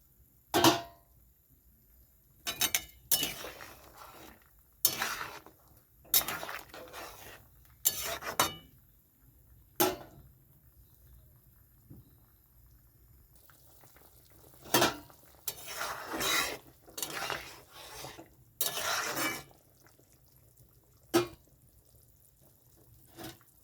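Fried homemade lentil dumplings go into a pan and get stirred, producing intermittent scraping and clinking bursts of a utensil against metal between quiet gaps, with a low simmering sizzle underneath.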